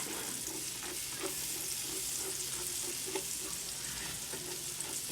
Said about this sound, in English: Get that celery and all that them juices mixed in with the onion and Get the celery soft a little bit.